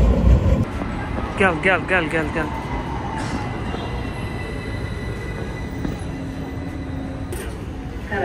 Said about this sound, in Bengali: আর আমি এখন যাচ্ছি সুলতান আহমেদ থেকে এমিনেনু ট্রাম ধরে।